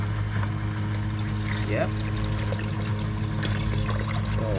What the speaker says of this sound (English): So one side pumping and one side is releasing the water. So it's just gonna keep flushing.